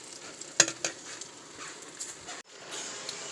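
Tomato sauce going into a pan of cooking peppers and onions, soft sizzling and stirring scrapes with a few sharper clinks, close and fairly quiet.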